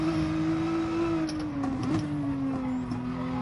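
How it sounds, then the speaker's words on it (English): Engine of a worn-out car in a racing video game, a steady buzzing drone with a slowly falling pitch, fairly quiet and unbroken, with faint clicks over it and no talking. "I got a car, it sounds like it's about to fall apart."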